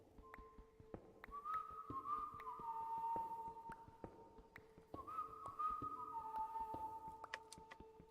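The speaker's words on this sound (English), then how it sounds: "The whistling returns each night" Long, wavering whistled notes glide up and down over a steady hum, two drawn-out phrases with a brief pause between, eerie and fairly clear.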